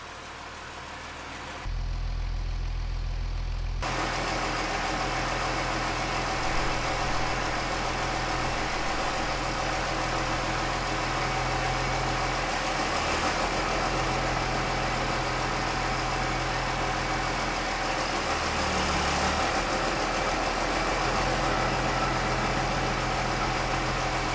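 A car engine idles steadily after a transmission rebuild, rear end jacked up, a low continuous rumble that stays loud and close, with occasional slight dips in tone and no talking.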